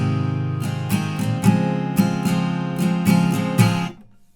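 Acoustic guitar strumming the intro of a song in a down, down, up, down, down pattern, with clear repeated strums and a pause before the final chord rings out and fades, played alone without voices.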